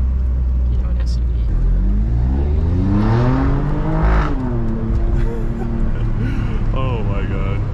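An Alfa Romeo Stelvio QV engine accelerating loudly, its tone rising through a strong climbing roar and then easing as it shifts, with voices in the cabin over part of it.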